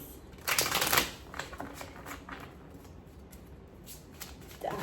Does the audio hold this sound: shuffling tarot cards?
yes